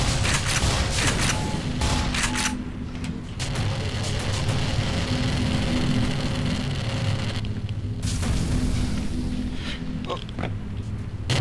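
Enemy gunfire in the video game Black Mesa, a dense, sustained barrage of rapid shots and booms that runs continuously and loudly throughout, with no clear pauses.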